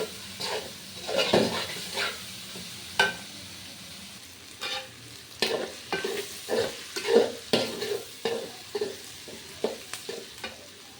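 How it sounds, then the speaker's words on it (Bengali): A spatula stirs Chinese vegetable fried rice with fried egg in a hot pan, repeated scraping strokes over a steady sizzle, close and fairly loud with no talking. "এখন ভালোভাবে নেড়ে চেড়ে নেব।"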